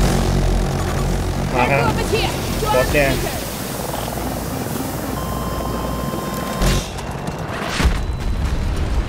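An aircraft in the Battlefield 2042 game drones overhead as a broad, rumbling roar that swells and fades beneath excited chatter from players talking over it, with occasional thuds in the mix.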